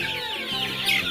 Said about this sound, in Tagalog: Pinaghalo ito na breed ng Rhode Island Red at saka Hubbard.